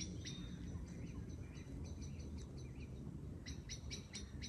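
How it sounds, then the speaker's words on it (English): Clear, fluting blackbird chirps ring out in short bursts over a low background rumble at dusk, moderately close and isolated against a quiet outdoor campsite. "blackbirds chirping well"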